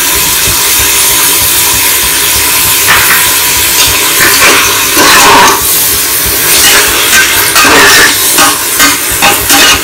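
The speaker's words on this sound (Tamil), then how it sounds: "ஒரு 2 மினிட்ஸ் வந்து ஃப்ரை பண்ணுங்க." Ground coriander paste with green chili and tomato paste frying in a pan: a loud, steady sizzle and hiss throughout, with occasional stirring scrapes rising over it.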